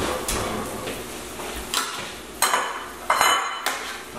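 A baking pan of roasted buffalo cauliflower is pulled from the oven with tongs, giving a few sharp metallic clanks and scrapes of pan against rack in a quiet kitchen.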